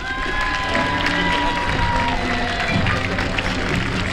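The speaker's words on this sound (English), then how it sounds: "A round of applause for our visitors from Canada." A parade crowd cheers and applauds, a steady loud wash of clapping and shouting with whistle-like tones over it, voices mixed in throughout.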